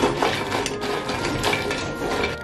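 Mulled wine being stirred in a pot, with clinks and scrapes of a utensil against the metal in an irregular rhythm, close and moderately loud over a steady background hum, no talking.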